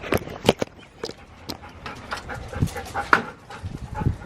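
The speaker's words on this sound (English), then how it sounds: "let me get these dogs. They're crying." Several dogs whimper and cry in a house, their soft high whines and panting mixed with scattered paw steps and shuffling, close by and fairly quiet.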